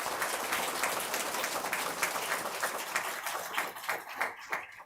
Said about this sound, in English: if we could get one more round of applause for the best of the best at Freedom